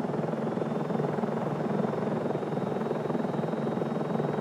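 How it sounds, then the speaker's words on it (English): A capture helicopter hovers low over a bighorn sheep, its rotor beating in a fast steady chop over a heavy engine roar, loud and close throughout with no one speaking. "the helicopter is able to immediately lower down right over the animal"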